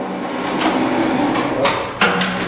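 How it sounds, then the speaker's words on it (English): A metal lathe switched on and running in reverse while finishing a barrel end gives a steady mechanical hum and whir, broken by a few sharp clunks near the end. "So I'm going to turn the lathe in reverse."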